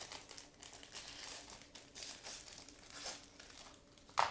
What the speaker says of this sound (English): Again, we cut through the plastic bag.